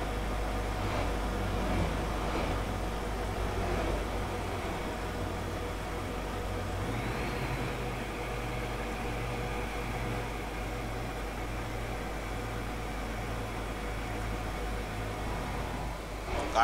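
A Kotalipara Star Line Express bus on the Dhaka to Gopalganj route in a driving simulator gives a steady low engine drone that builds slightly as it speeds up. The sound is continuous and fairly quiet, with no talking.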